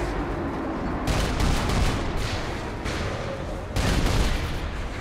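Rapid gunfire from the video game Saints Row 4, dense bursts of shots and booms in a continuous barrage with louder surges, loud and close throughout.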